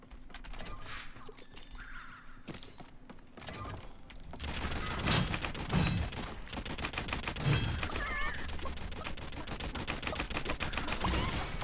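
Rifle fire in the Realm Royale video game, quieter shots and game effects at first, then a louder sustained stretch of rapid gunfire and clatter through the rest.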